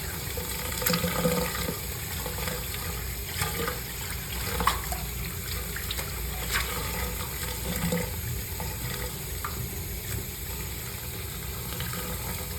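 Wastewater from an appliance pouring into a backed-up drain in a medical facility, a continuous rushing wash with a low rumble underneath, steady throughout with a faint clunk midway, no voices.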